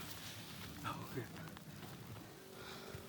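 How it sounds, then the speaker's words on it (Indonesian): Light drizzle falling while hiking Mount Merbabu via the Swanting route, a soft, faint patter of raindrops on surfaces around the walker, with a few brief chirpy tones and some rustling. "Hujannya hujan rintik-rintik."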